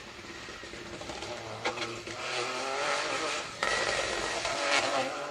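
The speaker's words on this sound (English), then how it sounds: "Rally cars really do sound fearsome, don't they, on the overrun, popping and banging their way through the stages." A rally car on an asphalt stage in Argyll roars past with its engine note rising and dropping, sharp pops and bangs crackling on the overrun, heard at a moderate distance outdoors.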